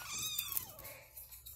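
A kitten meows close by in a single drawn-out, wavering cry that rises and then slides downward, heard clearly and alone.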